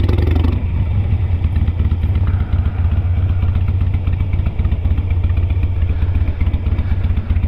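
A Harley-Davidson Sportster motorcycle engine runs steadily with a low, throbbing rumble and clattery texture, loud and close throughout.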